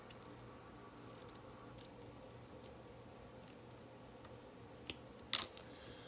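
Scissors cut paper for a journal with a few faint, scattered snips, then one sharper close cut near the end, over a low steady room hum.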